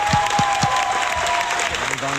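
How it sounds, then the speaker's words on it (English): An online English lesson audience applauds the participants, with steady applause under a voice that keeps talking. "Applause to all the participants again"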